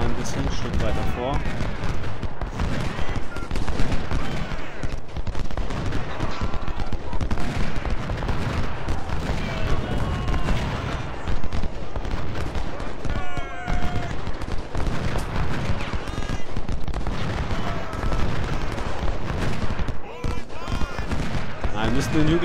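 Cannon and rifle fire from a Civil War battle in the video game Ultimate General: Civil War, heard as a dense, continuous crackle of gunfire with booms, under someone speaking German.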